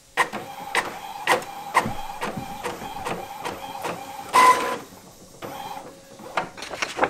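An Epson WorkForce 7710 inkjet printer runs sublimation prints, its print head shuttling back and forth in regular clicking passes with whirring motor sounds and a brief louder feed noise near the end.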